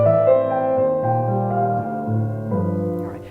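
A very simple melodic composition built from the letters of Kingwood's zip codes, tones played steadily one after another with sustained harmonic notes, fairly loud and alone with no talking.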